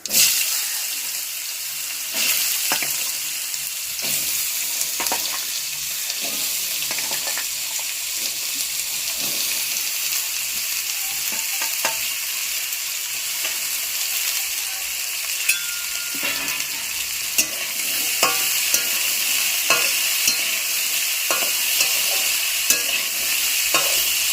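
Thinly sliced potatoes fry in a hot pan with a bright, continuous sizzle. Scraping stirs and clinks recur throughout.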